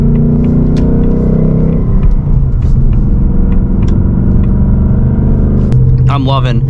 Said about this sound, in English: you get those little pops and crackles in the exhaust